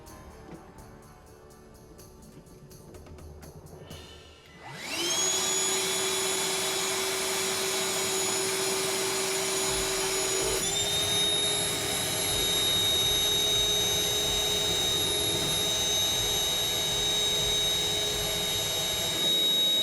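A Ryobi project vac powered by a 4 amp hour battery starts up after a few seconds of quiet room tone, then runs steadily with a loud, even motor whine and airflow roar that continues without pause.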